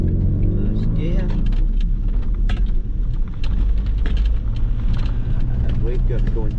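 A motorhome creeps slowly in first gear into a car park with a steady, low engine rumble throughout while a person talks over it.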